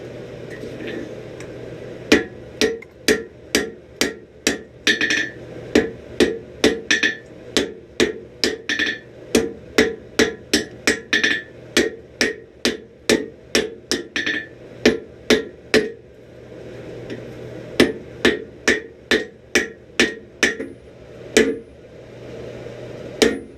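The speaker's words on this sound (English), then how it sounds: "When you're forge welding, don't play around. Once you set that weld, put that thing right back in the heat." Repeated hammer blows ring out on hot steel at a blacksmith shop forge-welding, in steady bursts of sharp metallic strikes with brief pauses between runs, close and loud with no talk.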